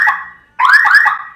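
Volkswagen Beetle alarm sounding as the car is locked by remote, loud and close: a short electronic tone, a brief gap, then a longer warbling chirp pattern.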